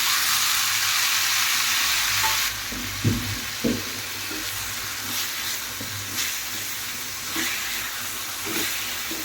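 Chopped tomatoes hit hot oil in a pan for a chapati kurma, setting off a loud, steady sizzle with a few soft scrapes and stirring knocks; no one speaks.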